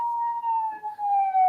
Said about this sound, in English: he's hearing the police sirens